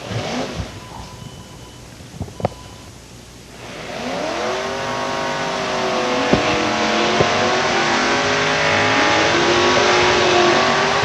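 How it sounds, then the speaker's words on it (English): Drag race cars roar through burnouts on the starting line at a Labour Day trophy eliminator event, one a 1972 Mustang Mach 1 with a 351 Cleveland; a quieter engine rumble builds into loud, sustained revving with rising and falling pitch. "Trophy eliminator action on the starting line now as we continue into more racing action."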